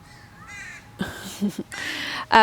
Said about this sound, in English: It's a pretty big baby crow.